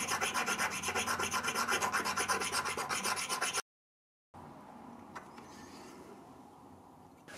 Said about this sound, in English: And I just touch the stone a little bit, not much, until I get a tiny nice bevel.